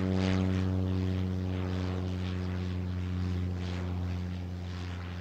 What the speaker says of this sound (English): small planes land at the tiny Kokoda airstrip several times a day